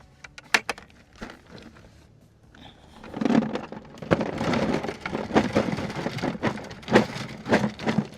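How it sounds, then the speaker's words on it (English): Gold ore from California is shaken through classifier screens, with a dense rattling, gritty pour of rock and gravel that starts after a few light knocks and continues loud and close, with no speech. "we're going to take our ore and we're going to run it through 3 classifiers and get it down to about 1/8 of an inch"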